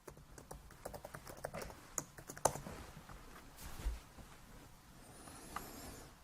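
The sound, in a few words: typing on a computer keyboard to enter an account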